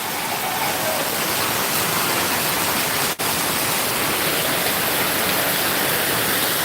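Heavy downpour over waterlogged streets in Hyderabad makes a constant broad hiss, loud and unbroken except for a split-second dropout midway.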